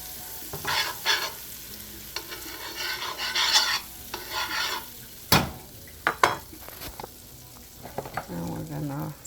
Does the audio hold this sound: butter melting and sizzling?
yes